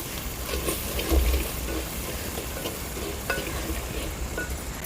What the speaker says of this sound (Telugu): వేసి ఒకసారి బాగా కలుపుకుందాం